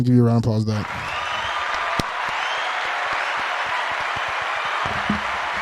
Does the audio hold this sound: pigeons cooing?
no